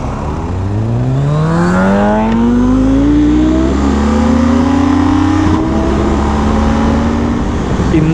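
A superbike on a weekend ride revs hard, its engine pitch climbing steeply through the gears and then holding a loud, steady drone close by, with a brief dip between shifts.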